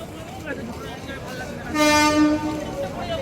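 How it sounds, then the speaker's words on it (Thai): A train at a railway station in India sounds a loud, sustained horn blast midway through, rising over a busy background of station noise and distant voices. "นี่น่าจะเป็นสถานีรถไฟเขา"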